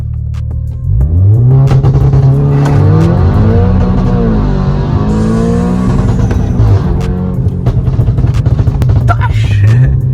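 A stage 3+ tuned Audi S3 of about 500 horsepower accelerating hard and loud, its engine note rising steadily and then dropping as it shifts gears through a sustained run.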